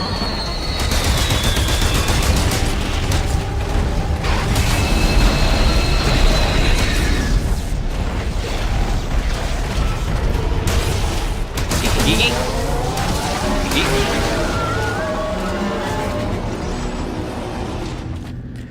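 Gunfire at a machine in Dead Space, rapid repeated shots and impacts layered over a loud, dense, chaotic game mix, with voices shouting over the noise.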